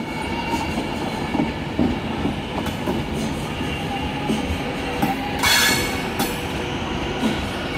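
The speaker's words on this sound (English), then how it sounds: "Alston Pendolino." An Alstom Pendolino train passes through London Euston station, with a steady rumble of rolling wheels, rhythmic clickety-clack over rail joints and a brief squeal partway through, heard at close range.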